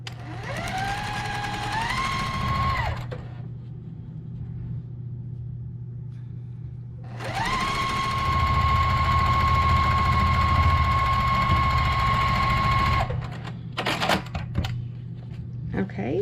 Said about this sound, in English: grab the other wing, right sides together, and we'll sew that on as well